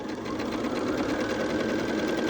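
A sewing machine runs a fast, even stitch through quilt fabric, its close, rapid needle chatter continuing steadily without a pause.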